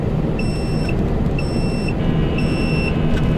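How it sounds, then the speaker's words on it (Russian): A device in a long-haul truck cab, its battery drained, beeps in repeated paired electronic tones roughly once a second, sharp and clear above a loud, steady engine or cab rumble. "Вот это мне не нравится, когда начинает она так пищать"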